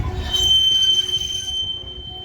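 A long manifest freight train rolls past in Minneapolis, its wheels letting out a steady high metallic squeal over a loud low rumble of cars, close and continuous throughout.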